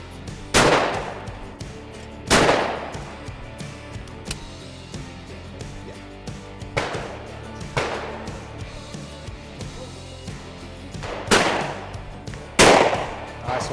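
Shotgun blasts at an outdoor sporting clay shoot, five or six loud sharp reports spaced a couple of seconds apart, each with a brief echoing tail, close to the listener with no talk between them.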